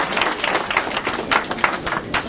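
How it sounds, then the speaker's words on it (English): Audience at a school gathering clapping for a school leader, a short burst of dense, steady applause from many hands with no speech. "So let's give Ms. Phillips a round of applause."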